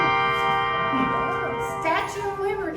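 A handbell swung through a gyro and struck at the top for an accent, giving sustained ringing tones and then a brighter struck swell near the end, heard at close range.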